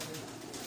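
A Rampuri pigeon gives a brief, soft, low coo, heard close and alone for under a second.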